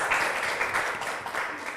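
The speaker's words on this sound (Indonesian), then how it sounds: "Boleh tepuk tangannya sekali lagi untuk Ibu Hajara Nilia." An audience at the Dakara Gama 2023 event applauds a speaker, with a short burst of dense, steady clapping from many hands at moderate loudness.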